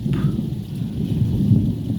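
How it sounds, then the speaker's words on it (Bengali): A low, continuous rumble of thunder rolls on with the steady hiss of rain on a rainy afternoon at a tea garden, loud and enveloping throughout. "মেঘ ডাকতেছে গরম গরম শব্দ হচ্ছে"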